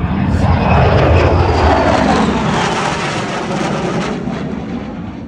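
A fighter jet built to replace strike and fighter aircraft such as the A-10, with internal weapons bays, roars past overhead in a loud, sustained, broadband rush that slowly eases toward the end.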